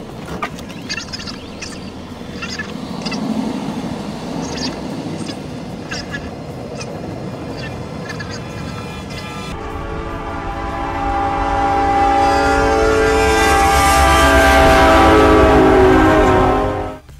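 A train rumbles past, loud and close, and its horn blares in sustained tones over the growing roar toward the end, at a crash where trains struck a car.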